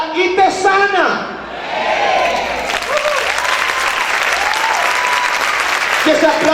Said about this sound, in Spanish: Que ese aplauso para el Señor